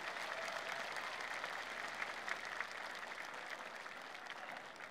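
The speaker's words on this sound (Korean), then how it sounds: "박수 한번 크게 치야죠." Audience applause for a provincial Korean traditional music orchestra at an event held after a former president's retirement, steady dense clapping from a crowd, moderately distant, sustained evenly throughout without speech.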